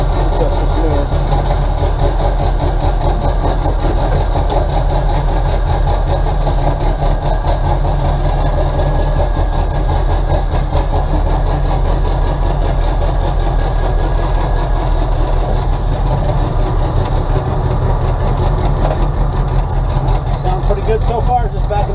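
A turbocharged 1967 VW Beetle engine idles steadily just after start-up, a close, continuous low rumble with someone talking over it.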